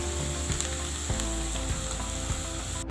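Chopped onion and garlic frying in hot oil in a pan, a steady close sizzle with a few soft stirring scrapes and no voices.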